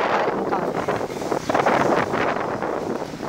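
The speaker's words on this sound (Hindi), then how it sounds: "तेज़ हवाएं चलना शुरू हो गई हैं" Strong gusty winds during a storm in Karachi roar continuously and loudly, buffeting the microphone with a steady rushing noise that swells in places.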